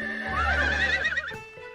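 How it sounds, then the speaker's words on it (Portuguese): Cartoon horses in a stable neigh and whinny in one drawn-out, loud call with a wavering pitch, heard close up, with no talk over it. "Nossos cavalos estão muito barulhentos hoje."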